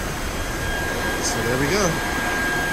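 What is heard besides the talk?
vacuum cleaner cleaning a Jeep Compass interior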